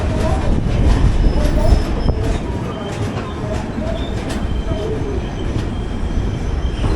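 The 11301 Udyan Express from Mumbai CSMT to Bengaluru rolls out of Daund Junction, heard from on board as a loud, steady rumble with rattling wheels and faint metallic squeals throughout.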